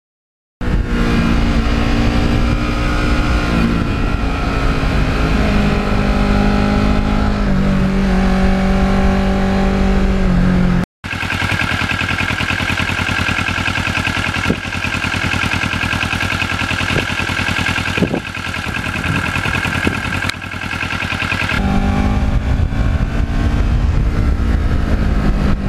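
A restored 2009 Kawasaki Ninja motorcycle being ridden, its engine loud and close with a steady tone that shifts pitch as it revs and changes gear, broken by one brief gap.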